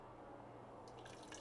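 Homemade fruit punch juice poured into a container, a faint continuous liquid trickle and splash heard alone, growing slightly brighter toward the end.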